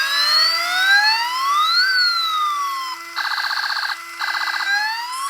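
A counterfeit toy siren blares loud and close, first a rising-and-falling wail, then rapid warbling pulses in two short bursts separated by a brief pause.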